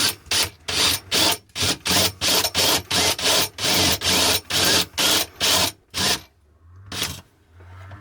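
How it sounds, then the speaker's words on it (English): A step drill bit cleans up a hole in a motorhome, whirring in a steady run of about a dozen short, even bursts, each a harsh grinding rasp, then stops with one last burst after a pause. "I'll just clean that up with the step drill"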